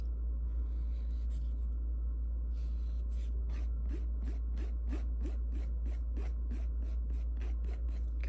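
A nail file rasps lightly along the edge of a red sparkly nail polish strip, removing the excess in a steady run of quick, evenly spaced close strokes with no talking.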